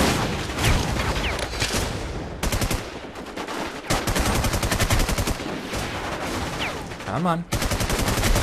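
Dense automatic gunfire from the video game War Inc. Battlezone rattles in long rapid bursts with short gaps between them, loud and close, while a player speaks briefly.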